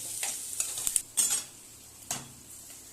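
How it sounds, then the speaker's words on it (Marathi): Onions sauté in a pan with a soft, fairly quiet sizzle while a spoon scrapes and clinks against the metal in a few irregular stirs. "कांदा लाल होईपर्यंत परतून घेऊया आणि मग त्याच्यामध्ये टोमॅटो टाकू"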